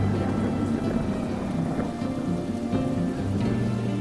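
Steady rain falls in an animated story, a dense, even hiss that holds for several seconds with a low rumbling underneath, and no voices.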